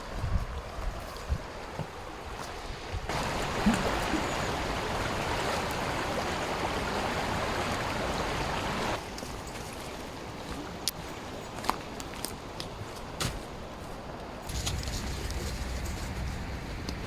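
Steady rushing river water flows throughout, swelling louder in the middle, with occasional soft knocks and clicks nearby.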